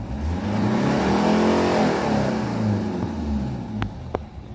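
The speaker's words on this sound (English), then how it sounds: "Let's try to accelerate and listen to the engine sound." 2006 Hyundai Porter TCI double-cab diesel truck with manual transmission, its engine revved up smoothly and then dropping back, heard loud and close with rising and falling tones, followed by a couple of sharp clicks near the end.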